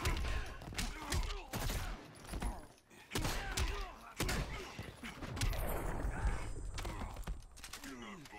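Gunshots and heavy hits sound in the fighting video game Injustice 2, a rapid volley of sharp bangs and thuds in bursts, with voices talking over the action.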